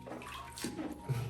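Water gently splashing and sloshing in a basin as a baby bathes, soft and close, with a faint voice in the background.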